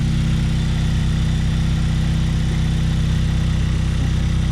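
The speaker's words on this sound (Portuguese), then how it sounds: "agora o Golf ficou com um barulho mais alto, velho" A Volkswagen Golf fitted with a homemade turbo flutter setup drones loudly at idle, its engine running a steady, even hum with a harsh, raspy edge and no voices over it.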